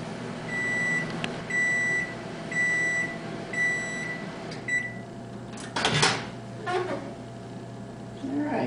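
A microwave oven melting chocolate hums steadily and gives a string of evenly spaced beeps, followed by a clunk as the door is handled near the end.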